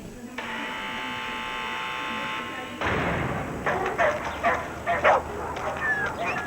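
A dog barks several times in quick bursts, fairly close, after a steady electric buzzing hum; some thumps mixed in.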